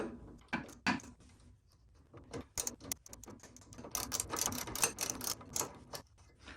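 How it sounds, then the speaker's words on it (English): A wrench works the leaf spring shackle bolt at the bottom of a Willys Jeep front axle, producing quiet, irregular ratcheting clicks and metallic taps in short bursts with small pauses between them. "Now we're trying to loosen the shackle right here at the very bottom to release our leaf spring from the"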